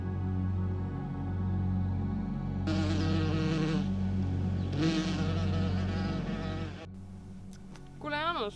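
Bees buzzing outdoors, a steady droning hum that swells louder in bursts and lingers close, with a voice speaking briefly over the buzzing near the end.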